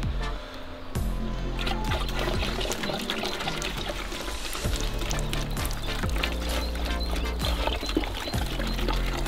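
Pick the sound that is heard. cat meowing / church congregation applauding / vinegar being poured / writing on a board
vinegar being poured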